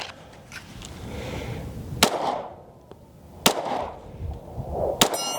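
Three sharp, loud pistol shots from a Springfield Armory Echelon Comp ring out several seconds apart at an outdoor range, each crack followed by a short echo, with faint steel-target clangs.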